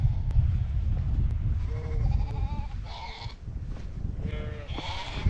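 Sheep bleating in a farm field near Zug, Switzerland, with several distinct bleats from nearby animals, some overlapping, over a low rumbling outdoor background.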